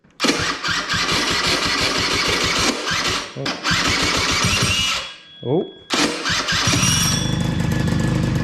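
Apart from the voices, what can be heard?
50cc scooter engine starting and idling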